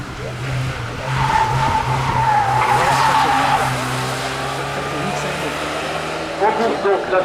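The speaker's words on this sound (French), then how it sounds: "On course donc la Fiat X1-9 de Christian Noirin" Fiat X1-9 race car on a hillclimb-style racing course, its engine droning steadily throughout with a rising then settling pitch, fairly close and continuous, with a brief tire squeal or skid toward the end.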